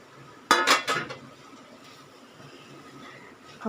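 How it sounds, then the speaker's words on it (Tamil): Capsicum, potato and mixed vegetables are stirred in a pan with a spoon, giving three quick metallic scrapes and clanks close up, then a quieter sizzle and a final clink. "ஒரு பரட்டு பரட்டிடலாம்"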